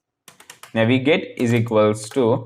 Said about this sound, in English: So just type as I type navigate